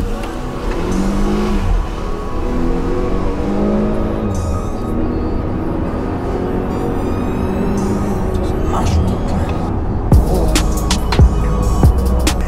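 Volvo XC60 T8 hybrid, 407 hp, driven hard with the engine accelerating; a loud continuous drone heard from inside the car rises in pitch through the gears, with a couple of sharp knocks near the end.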